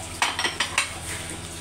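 A spatula stirs mixed vegetables in a pan, clacking against the metal four times in quick succession. The clacks sit over a faint background hiss, and no voice is heard.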